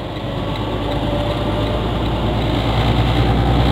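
Truck engine with a trailer through a gear change, a loud continuous low rumble that builds slightly in intensity with no talk.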